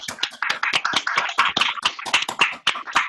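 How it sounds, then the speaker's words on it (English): Classroom applause for a middle school Spanish teacher, a group of hands clapping close and fast in an uneven patter that keeps going without pause. "can I please get a round of applause for our phenomenal, breathtaking, awesome, cool, chill teacher"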